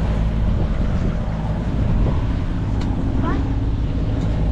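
Sailboat motoring under engine power on the sea with no wind, a steady low engine drone mixed with water rush and wind buffeting on the microphone, with people talking over it.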